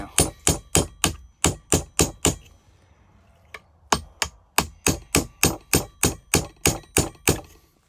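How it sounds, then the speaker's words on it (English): A steel punch is tapped with a hammer against the lip of the piston on an older-style Graco pump during repacking: two runs of sharp, evenly spaced metallic strikes, loud and close, separated by a short pause with one lone tap. "Take your punch, put it on the lip of the piston, and just tap it"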